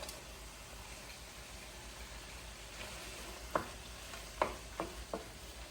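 Vegetables are dropped into a hot pan for a chicken and shrimp pasta, giving a steady low sizzle broken by several sharp, close clatters and crackles as they land and are stirred.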